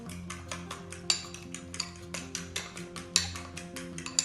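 A spoon scrapes and clinks against a bowl as tofu is stirred with salt and pepper seasoning, making repeated rhythmic taps of varying strength and a few sharper knocks.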